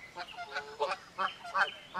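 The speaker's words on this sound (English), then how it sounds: "Overhead, a flock of honking geese flew by in V formation" A flock of geese flying overhead in V formation, giving several spaced, honking calls about half a second apart, moderately loud and fairly close.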